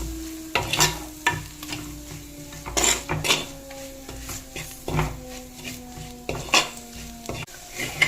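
Kashmiri chilli, chilli, turmeric and coriander powders frying in a pan with a soft sizzle, while a spoon scrapes and clinks against the metal in irregular close strokes.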